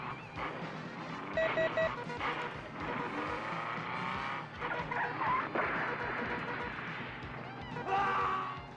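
Racing cars from an Amiga laserdisc video game roar and skid continuously, with engine noise, screeching tires and game tones layered over talk.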